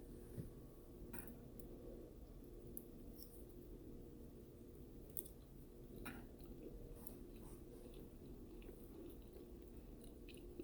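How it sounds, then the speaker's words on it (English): Soft, close chewing of a hand-formed Field Roast vegan FieldBurger, with faint, wet, squishy mouth sounds repeating over a quiet background hum. "I hate to hear myself chew"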